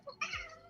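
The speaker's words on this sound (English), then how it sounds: "It's a meow." A single short cat meow, close and fairly quiet, rising then falling in pitch in under a second.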